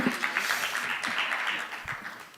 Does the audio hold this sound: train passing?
no